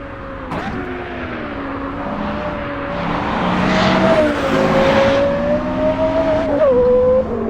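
A Porsche Carrera GT road car on a race track, its engine holding a loud, clear high-pitched wail that rises and falls through gear changes, building toward a near, intense scream.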